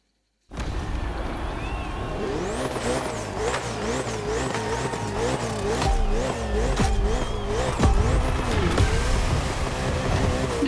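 A Ferrari and a Red Bull race car in The Crew Motorfest scream around a circuit, their engines wailing through rapid gear shifts as the pitch climbs and drops, with tire squeal and loud, close racing noise.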